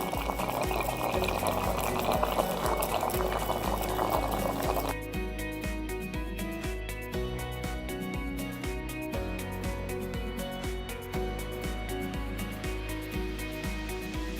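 A coconut water vending machine extracts and dispenses water from a coconut: a loud bubbling, churning liquid rush gives way midway to a steadier mechanical whir with rapid rhythmic pulses.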